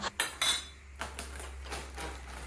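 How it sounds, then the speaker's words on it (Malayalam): A metal vessel is set down with a couple of sharp clinks while unpacking a food parcel, followed by softer knocks and rattling of dishes close by. "പിന്നെ നമുക്കിത് പാത്രം വെക്കാം"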